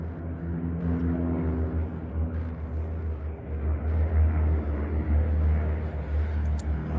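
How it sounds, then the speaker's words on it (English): A steady, low engine drone rumbles throughout, like an aircraft passing overhead, swelling slightly louder toward the end with no talking. "It sounds like a helicopter. Or a plane, actually, going over."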